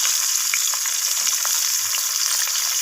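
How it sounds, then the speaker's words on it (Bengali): Cut eggplant pieces fry in hot oil in the same oil just used for potatoes, giving a steady, loud, close sizzle with small crackles and occasional stirring, and no voices. "তো এরপর আমি ওই একই তেলের মধ্যে কেটে রাখা বেগুনগুলোকে দিয়ে দিলাম।"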